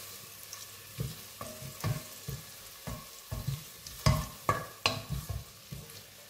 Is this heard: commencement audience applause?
no